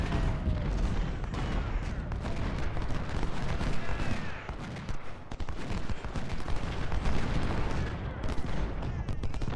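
Dense, sustained battlefield gunfire and cannon booms from 20-pounder artillery in the Ultimate General: Civil War game, a loud continuous roar of overlapping shots and explosions with no let-up.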